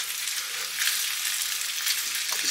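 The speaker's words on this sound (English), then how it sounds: "put in your meat, and then we'll just stir and fry that" Pork stir-frying in a hot oiled pan gives a constant bright sizzle that swells slightly midway, with a faint scrape of a utensil near the end.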